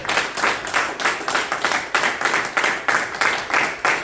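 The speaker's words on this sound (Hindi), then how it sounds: "अपने लिए तालियां बजा दीजिए।" Congregation at a Pakistani Christian fellowship service clapping in a steady rhythmic beat, loud, close and continuous, with a faint voice underneath.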